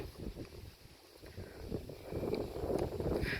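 Strong, cool wind blows outdoors and buffets the microphone with a low, rushing rumble. The gusts build and grow louder over the last second or so.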